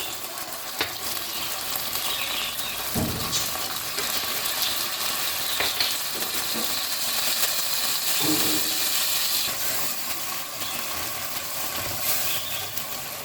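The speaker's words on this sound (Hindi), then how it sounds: "प्याज को हम सिर्फ सौते करेंगे ताकि इसका भी कच्चापन दूर हो जाए" Onions sizzle steadily in a hot pan for chicken chowmein, a continuous frying hiss with occasional scraping and stirring clatters, close and moderately loud, with no talking.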